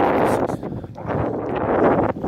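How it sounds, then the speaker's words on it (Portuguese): Wind buffets the microphone outdoors near a remote church in gusty, uneven rushes, loud and close, with faint rustling under it. "Espero que o áudio esteja bom aí por causa do vento também"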